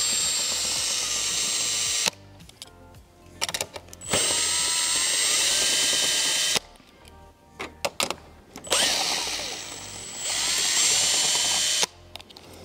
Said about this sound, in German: Wir lösen die 3 Muttern vom Najax.